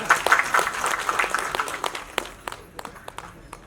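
Audience clapping at a Tamil spiritual event honouring SP. Muthuraman, a fairly dense burst that thins into scattered individual claps as it fades out.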